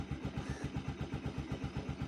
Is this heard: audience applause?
no